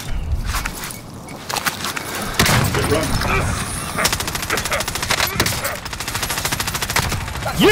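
Rapid gunfire bursts and scattered shots from the video game Call of Duty Warzone, dense and loud throughout, mixed with footsteps and clattering effects while a player talks over the action.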